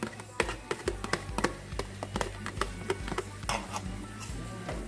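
Spoon stirring saltfish into sautéed seasoning in a pan while cooking Jamaican ackee and saltfish, giving a run of quick, close scraping taps and clinks of utensil against the pan at a steady, busy rhythm.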